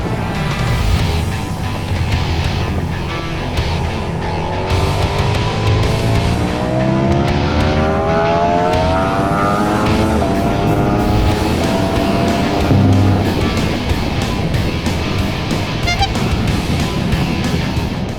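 A Ducati Panigale V4S engine pulls hard in second gear, a loud, close, continuous roar whose pitch climbs and falls through the revs over wind rush.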